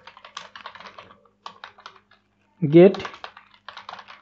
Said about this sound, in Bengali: এখানে আমি জাভাস্ক্রিপ্টের কোডগুলো লিখছি